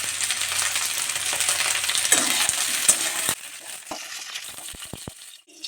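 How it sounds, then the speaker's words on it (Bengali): Okra (bhindi) frying in oil in a home kitchen with a loud bubbling sizzle and stirring scrapes that drop suddenly to softer sizzling and a few clinks. "দেখুন ভেন্ডিগুলো আমার ভাজা হয়ে গেছে।"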